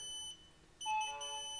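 A Wi-Fi temperature monitor on an outdoor wood boiler sounds its low-water-temperature alarm: a brief electronic beep, a short pause, then a louder, sustained multi-tone beeping up close.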